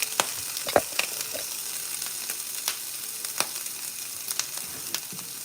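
Canadian bacon browning in a pan at breakfast, a steady soft sizzle with scattered crackling pops and spits throughout, close and moderately quiet, no talking.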